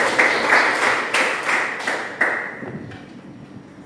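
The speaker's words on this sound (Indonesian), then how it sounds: "Kita beri aplaus dulu untuk kelompok 1." A classroom gives group 1 a round of applause, a short burst of clapping with a few strong claps that fade out within a few seconds, fairly close and loud.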